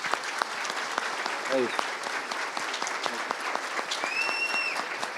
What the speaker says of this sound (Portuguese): Parabéns, uma salva de palmas.